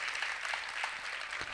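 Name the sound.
audience clapping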